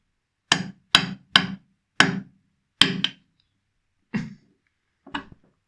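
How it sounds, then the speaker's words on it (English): Seven sharp hammer taps strike a tight basin tap to loosen it, spaced irregularly: a quick cluster of four, a double hit, then two fainter, isolated knocks, close and dry in a quiet room. "I might just have to give it some encouragement with a hammer"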